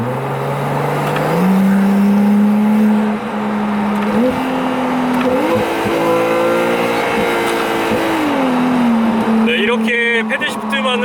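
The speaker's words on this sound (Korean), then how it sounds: "이 페라리 296 GTS의 온전한 엔진 사운드를 만들어낼 수가 있습니다" A Ferrari 296 GTS V6 hybrid engine revs loudly, its pitch climbing in steps through the gears and then easing down, with a voice heard faintly underneath.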